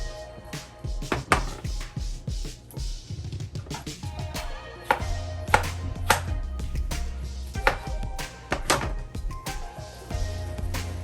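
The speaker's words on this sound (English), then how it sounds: "I have to cut it that way to be easier for me to blend in the blender" Repeated knife chops through tomatoes and onions on a cutting board in uneven bursts, close and crisp, with quieter rustling between strokes.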